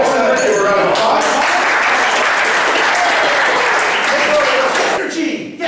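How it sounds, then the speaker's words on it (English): A studio audience at a talk show breaks into loud, sustained applause that fills the room, fading slightly at the very end. "Give her a round of applause."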